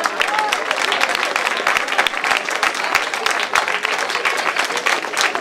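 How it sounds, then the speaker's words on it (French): An audience applauds loudly and continuously for a rider at a Tour des Ecureuils 2015 results ceremony, dense clapping filling the room without pause. "on peut l'applaudir, mesdames et messieurs."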